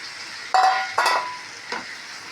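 Chicken and boiled plantain are stirred in a pan of hot oil, giving a few quick scraping, sizzling bursts about half a second apart over a soft background hiss, then quieting.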